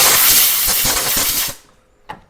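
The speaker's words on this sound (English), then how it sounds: "So what I like to do is just blow it out with a compressor." A loud burst of compressed air from a compressor hisses through clogged sandpaper to blow it clean, sputtering briefly, then stopping, followed by a single short knock.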